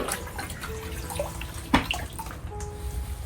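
Water runs and splashes onto sphagnum-type moss being soaked to line the bottom of an orchid pot, a steady close trickle with one brief louder splash, alone without talk.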